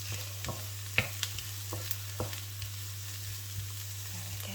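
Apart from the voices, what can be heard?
food frying and being stirred in a pan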